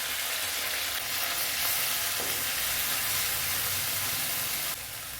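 Onion paste and ginger-garlic paste frying in a pan for chili chicken, giving a dense continuous hiss close at hand, which eases slightly near the end.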